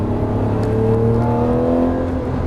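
A Lamborghini Murciélago on the Las Vegas Motor Speedway race track, its engine droning loud and steady with a rising pitch as it accelerates, close and continuous with no talk.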